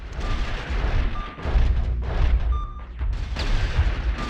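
Cannon fire from a stationary cannon in a 1995 PlayStation first-person shooter, heavy booming blasts repeating steadily and loud, layered with game effects and no talk.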